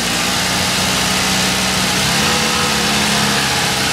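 A car engine runs steadily and loudly at close range during an alternator charging-voltage test, holding an even drone with no clear rise in revs and no talk.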